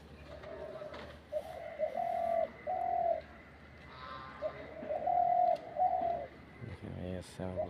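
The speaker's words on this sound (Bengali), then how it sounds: "কঠিন ডাকাডাকি, তো বড় ডাকের পাখি আমি আর লাইফে আজ পর্যন্ত দেখি নাই।" Loud bird calls ring out around a rooftop, a repeated cooing series in bursts with short pauses, a dove-like voice fairly near against a faint steady background hum.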